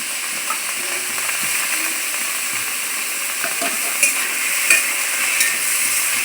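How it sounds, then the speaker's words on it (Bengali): Potatoes and pointed gourd fry together in a pan, giving a steady close sizzle with occasional scraping stirs and small clinks, no voices present. "আলু পটল একসাথে ভেজে নেব।"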